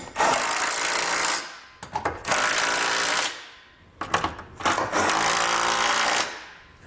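Socket ratchet snugging trailer hitch receiver bolts on a 2022 Toyota Highlander, heard as bursts of loud, close metallic ratcheting separated by brief pauses.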